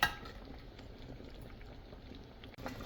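Fish sinigang simmering in a pot, made with tulingan and pampano, giving a steady, soft bubbling boil that stays close and even throughout with no talk over it.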